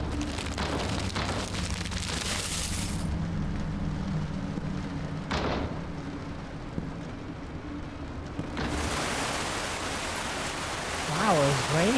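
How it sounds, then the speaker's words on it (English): Heavy rain pours down as a dense, hissing wash, with speech faintly mixed in at moments. "Wow, it's raining like crazy."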